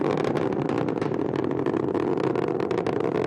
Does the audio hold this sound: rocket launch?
yes